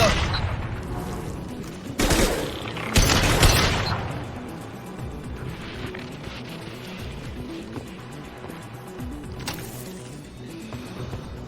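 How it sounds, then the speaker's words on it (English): Gunfire and impact blasts in the video game Mass Effect 2, a couple of loud bursts early on followed by a lower, steady rumble of combat ambience with occasional sharper hits. "Firing an impact shot!"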